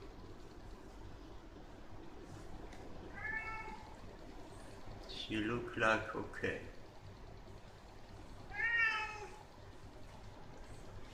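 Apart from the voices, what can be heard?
cat meowing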